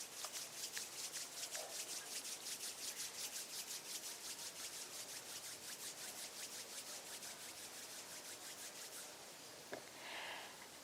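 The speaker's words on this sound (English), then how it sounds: "just gently rub the palms of your hands against each other" Palms of the hands rubbed gently against each other at a meditation satsang, a soft, steady swishing friction in even back-and-forth strokes, close and quiet, continuing for about nine seconds with no speech.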